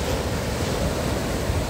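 Sea surf on a beach at Gudauta, Abkhazia, in a moderate autumn storm: a steady, loud, close wash of breaking waves with wind rush, no voices.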